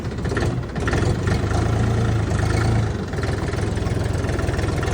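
A Bulat 244 PRO tractor's low, steady engine rumbles close by, idling with a slight rise in revs partway through, no voices over it.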